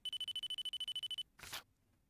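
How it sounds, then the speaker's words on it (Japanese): A mobile phone rings in a DS mystery adventure game, a rapid electronic trill pulsing about a dozen times in quick even bursts, then cutting off before a brief soft whoosh. "君の携帯電話鳴ってない？"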